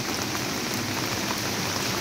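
Steady rain pours down outdoors during a shared village meal of nasi liwet, a dense, even hiss of drops on surfaces that continues unbroken and fairly loud throughout, with no voices heard.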